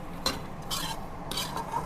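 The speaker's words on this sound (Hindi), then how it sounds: "इस तरह से हम मखानों को भी रोस्ट करेंगे।" Fox nuts (makhana) roast in a pan over high gas, with a few short scraping stirs of a spoon against the pan under a faint sizzle, close and fairly quiet.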